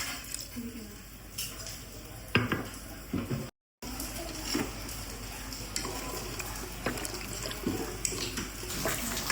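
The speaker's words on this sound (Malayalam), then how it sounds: "വെള്ളം ഒഴിച്ചതിന് ശേഷം നല്ലപോലെ മിക്സ് ചെയ്ത് വെക്കേണ്ടതാണ്." Kerala-style mutton curry masala being stirred in a pot after water is added, with scraping and wet sloshing strokes at irregular intervals, one short gap of silence, and a voice talking over much of it.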